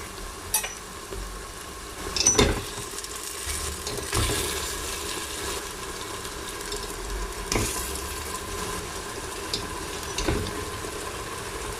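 A soft steady sizzle of meat frying in tomato paste in a pan, broken by occasional clinks and scrapes of a utensil stirring; close and moderately quiet.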